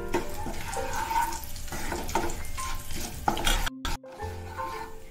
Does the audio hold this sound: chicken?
no